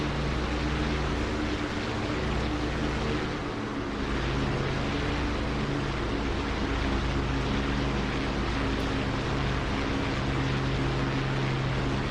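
Propeller warbird engine droning steadily in the DCS flight simulator during a takeoff roll, a loud continuous drone with no talk over it.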